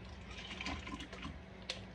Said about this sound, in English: Pour the water in that cup right there.